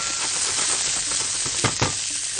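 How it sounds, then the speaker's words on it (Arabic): Thinly sliced onions sauté in a pan for a zucchini and chicken béchamel dish, giving a loud, continuous close sizzle with a couple of brief stirring scrapes near the end and no talking. "اقوم واخد عندي البصل ونبدا ان احنا نشوحه مع بعض"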